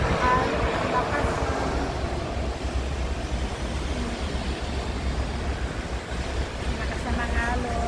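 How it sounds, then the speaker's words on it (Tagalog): Strong sea waves churn during Typhoon Ragasa off the Taiwan coast, a constant loud, broadband roar of surf mixed with gusting wind noise on the microphone, steady throughout with no spoken words. "Lakas na ng alon."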